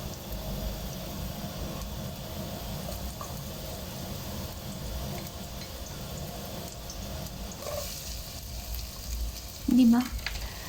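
Beef ribs and a large onion sautéing in a pan, a steady soft sizzle and crackle with a stirring clink near the end, no speech over it.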